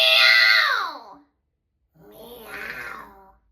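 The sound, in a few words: voice imitating a cat meowing with vocal rattle effect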